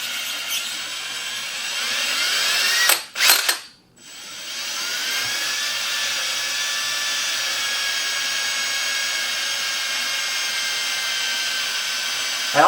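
A high-pitched drill whines steadily while boring through a cowboy boot insole, briefly stopping and restarting before running on continuously.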